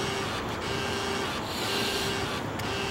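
A refrigerant identifier RI-2004DXP prints its test results with a small built-in printer, a steady mechanical whir with rhythmic rasping feed clicks at fairly low volume, with no talking.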